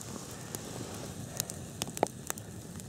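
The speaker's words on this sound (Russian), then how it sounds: "Легкий костер." Small campfire burning outdoors on a winter hunting trip, soft hiss with scattered sharp crackles and pops, one louder snap near the end, no talking.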